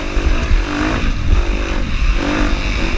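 Dirt bike motorcycles race through wooded trails in a harescramble at Knobby Acres, their engines droning steadily and loudly up close with rising and falling revs.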